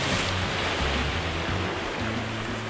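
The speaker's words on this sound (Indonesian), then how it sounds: "Ini air sedang surut, mau naik, tapi ombak sudah lumayan besar ini." Ocean waves breaking on the shore at a fishing spot with a rising tide and fairly big swell, a continuous close wash of surf with a low rumbling undertone and no talking.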